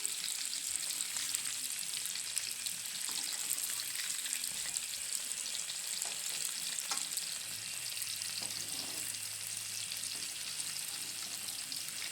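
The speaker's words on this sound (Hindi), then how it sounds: "दरमियानी आंच पे इनको फ्राई करना है" Chicken pakoras fry in oil over medium heat, giving a continuous, even crackling sizzle that stays close and fairly soft throughout, with faint kitchen clinks underneath.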